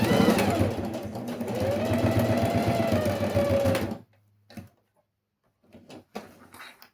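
A sewing machine runs a reinforcement seam on a zippered fabric pouch, a close rapid mechanical stitching whir for about four seconds, then stopping, followed by faint handling clicks and rustles.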